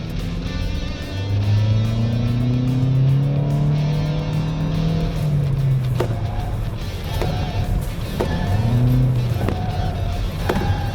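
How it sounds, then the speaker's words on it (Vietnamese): A Toyota Vios weaving through a slalom zigzag test lets out long, rising tire squeals that bend in pitch, followed by shorter chirps as the car switches direction, loud over a steady engine and road roar. "tiếng rít lốp"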